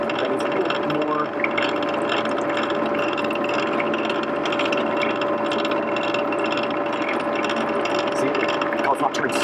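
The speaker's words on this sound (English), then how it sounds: "See how it's not turning so white when I'm polishing it?" Continuous grinding and polishing of a cut geode on a spinning machine, a steady mechanical whir with a ratcheting texture throughout, loud and close, with occasional faint speech underneath.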